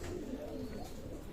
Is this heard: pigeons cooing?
yes